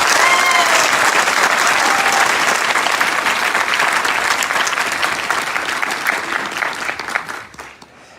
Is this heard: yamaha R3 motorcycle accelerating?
no